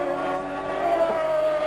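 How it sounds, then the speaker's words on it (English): Ayrton Senna's Formula One McLaren screams around a track during qualifying at the 1991 British Grand Prix, a thin sustained high engine whine sliding slightly in pitch, faint and muffled. "Senna thrashes his McLaren, practically bending it around the curves"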